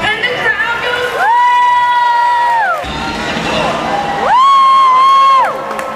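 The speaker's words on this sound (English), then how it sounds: "And the crowd goes, woo!" A crowd at Disney's Hollywood Studios lets out loud, sustained whoops and cheers in two long swells, voices blending into a bright, near, unified 'woo' over general crowd noise.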